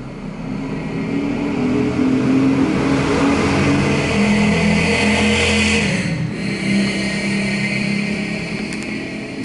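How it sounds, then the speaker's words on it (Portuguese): A motorcycle engine with an aftermarket exhaust revs loudly close by, its pitch rising and falling over a steady roar, briefly dipping around the middle. "Não sei que gosto o pessoal acha nesse escapamento nojento."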